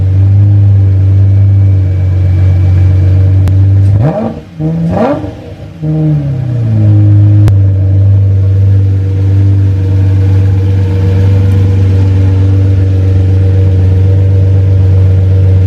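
A loud, deep Lamborghini exhaust fitted with Pringles cans drones at a steady idle, then snaps through two quick sharp revs before settling back to the rumble.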